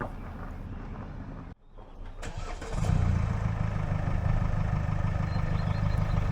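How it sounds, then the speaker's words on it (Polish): A car towing a heavy trailer of nearly three tonnes, its engine cutting briefly then starting and settling into a steady, close idle hum with a rough mid-low drone as it prepares to reverse. "A teraz czas na pierwsze cofanie z nowymi lusterkami, bo Justyna musi wjechać do bramy"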